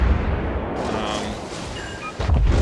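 Cleveland cruiser guns firing in a World of Warships naval battle, a continuous dense rumble of booming salvos with a sharp burst near the end, loud and close.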